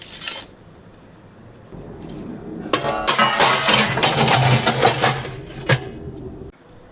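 Metal cookware and utensils clink and clatter as they are arranged in a home kitchen, with sharp knocks and rattling bursts over a low background hum.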